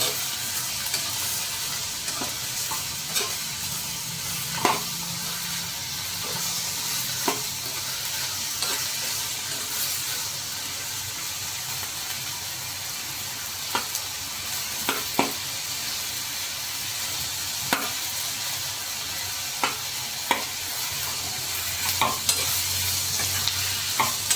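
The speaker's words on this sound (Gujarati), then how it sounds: "આ બધા મસાલાને સરસ રીતે પાકવા દેશું જેથી કરીને કાચો સ્વાદ ઓછો આવે" Spices frying and being stirred in a pan while cooking matar paneer, with a steady sizzle and repeated scraping clacks of a spoon against the pan throughout.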